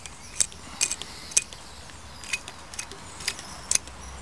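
Muddy water pumped through a soap-dispenser water filter outdoors, giving sharp intermittent plastic clicks and squeaks, roughly one every half second, faint against a quiet background with no talk.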